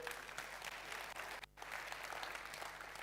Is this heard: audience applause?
yes